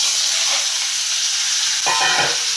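Cut raw mango pieces fry in a pan with cumin, giving a loud, close, continuous sizzling hiss with a brief stirring rustle near the end.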